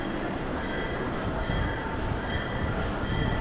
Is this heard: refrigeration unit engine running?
no